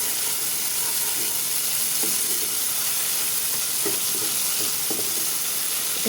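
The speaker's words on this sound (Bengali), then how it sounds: "সেটাকে আমি খুন্তি দিয়ে ভালোভাবে" A spatula stirs a Bengali-style Rui fish curry in hot oil with black cumin and green chilli, giving a steady close sizzle with soft scraping strokes every second or so and no talking.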